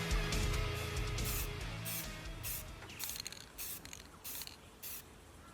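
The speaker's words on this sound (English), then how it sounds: "I'll just spray the third coat. Same as the first, same as the second." Aerosol spray paint hissing from a shaken can in several separate bursts, laying a third coat on the sides of a solid body electric guitar, close and fairly clear, with some handling noise at the start.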